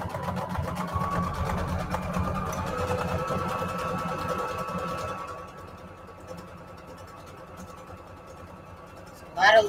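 A sewing machine runs steadily for about five seconds, stitching pockets made from music sheets for a junk journal, with a close, even mechanical whir that then stops, leaving a quiet room and a brief clatter at the end.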